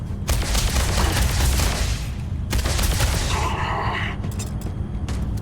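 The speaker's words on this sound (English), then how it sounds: "They're shooting at me through the windows." Gunfire from enemies shooting through windows in the video game Starfield, with dense, loud bursts of rapid shots and a brief pause partway through. A further volley follows the pause and trails off into scattered reports near the end.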